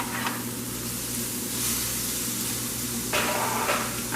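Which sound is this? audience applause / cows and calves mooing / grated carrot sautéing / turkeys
grated carrot sautéing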